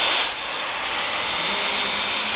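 Thrusters roar on a steam engine built in a video game, a loud, steady, broadband rushing drone that holds unbroken throughout, with no voices.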